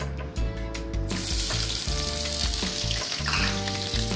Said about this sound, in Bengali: পেঁয়াজটা আমি তেলে দেবো এখন।